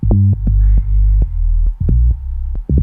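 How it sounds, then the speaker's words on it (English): Deep synth bass notes pulse in short, regular stabs in a speed garage style, a smooth sine tone thickened with a slight metallic edge from frequency modulation by a second sine wave at the same octave. "you can hear I'm getting a little bit of FM from another sine wave at the same octave"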